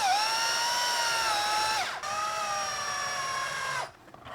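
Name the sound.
screws being driven into slip casting mold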